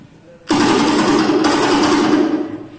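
A person imitates rapid M16 rifle fire with their voice, a loud continuous rattling burst lasting a couple of seconds.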